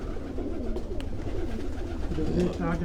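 Low, soft pigeon coos rise under people talking nearby, with a hum of background activity throughout.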